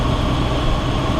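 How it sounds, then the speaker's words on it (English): Mercedes-Benz R107 350 SL with a 4.5-litre engine running after an oil cooler exchange, a steady loud rumbling drone with a dense low hum and no talk. "engine run for a while just to make sure"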